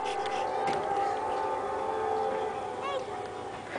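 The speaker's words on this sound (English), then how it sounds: "You hear the train? Yeah, choo-choo." A train passes near a playground, a sustained tonal horn-like drone heard at a moderate distance with a brief rising wail near the end and faint background activity.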